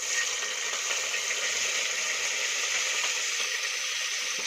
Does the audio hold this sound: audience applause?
no